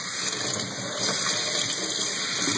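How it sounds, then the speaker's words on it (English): Tap water runs in a steady, loud, close stream into a sink as a bottle cap is rinsed under it, with no talk. "make sure I rinse out the cap"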